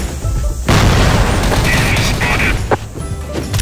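A grenade detonates in the CrossFire shooter game on the Pelourinho map: one loud, close blast bursts out after a brief lull and rumbles on for a few seconds, with some sharp debris-like cracks and faint game chatter.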